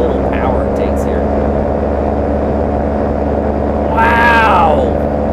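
A steady droning paramotor trike engine hum during low-level flight at low power, low and constant, with a brief rising whine near the end.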